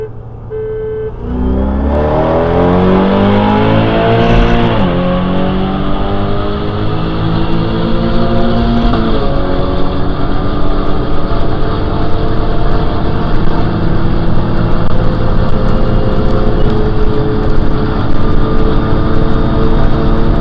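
A tuned Audi S4 and a supercharged Toyota Tundra roll race, loud engine roar that rises through gear changes with rising and falling harmonics, sustained and close throughout without talk.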